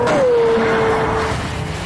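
Pagani Zonda with 650 horsepower accelerating hard, a loud, close engine wail that sweeps down in pitch and then holds steady before easing off, with no talk.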